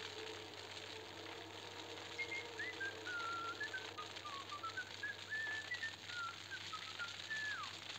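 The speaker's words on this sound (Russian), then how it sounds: "Кто свистит?" A melodic whistle wanders up and down steadily for several seconds, moderately near, over a constant background hum inside the video game Max Payne.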